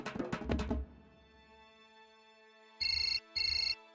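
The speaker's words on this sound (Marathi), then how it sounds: "हम फोन आलाय." A mobile phone ringtone sounds in two short electronic bursts, fairly loud and alone, following a fading musical sting in a Marathi TV serial scene.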